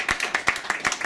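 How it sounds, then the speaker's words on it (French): An audience at an album signing in Paris gives a brief burst of clapping. A handful of distinct, close claps come in a quick irregular rhythm. "Je vous prie d'applaudir très très fort pour cette belle initiative"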